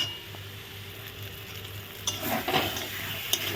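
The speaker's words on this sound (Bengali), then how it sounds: "দেখো মশলা দিয়ে এখন আলুগুলো কষিয়ে নেবো" Potatoes stir-fried with spices in a pan for a pointed gourd dish give a steady sizzle, with scraping stirs and light clinks of a utensil against the pan that grow louder toward the end.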